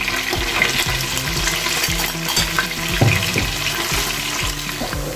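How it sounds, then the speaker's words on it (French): Beef pieces frying in hot oil in a cooking pot for a yam and beef stew, giving a busy, close sizzle and bubbling with intermittent clunks of the meat and utensil against the pot. "Je vais venir mettre mes morceaux de viande comme ça et les faire frire."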